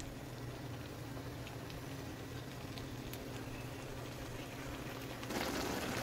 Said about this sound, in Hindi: ये देखें अच्छा सा उबाल आ गया इसमें, खूब ज़ोर शोर से पक रही हैं